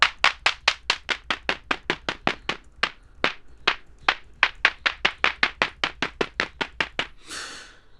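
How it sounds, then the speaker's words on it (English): A synthesized clap in Ableton Live repeats in a fast, steady pattern of crisp, close hits. Its decay and tone shift gradually as the sound morphs, ending in a longer, noisier burst. "we can just go through the morph, and then you will see how the clap will also change by that"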